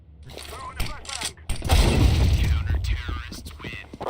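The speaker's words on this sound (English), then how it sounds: "Throwing a flashbang" Flashbang grenade going off in Counter-Strike 2, a sharp loud burst followed by a ringing, sustained blast of noise, with gunfire clatter and a player's voice talking around it.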